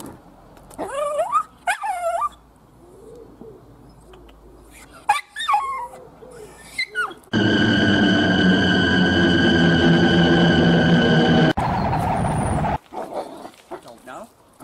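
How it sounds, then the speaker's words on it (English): A dog whimpers and yips in short bursts between people talking, followed by a long loud steady tonal drone and a brief quieter stretch. "What's he barking at?"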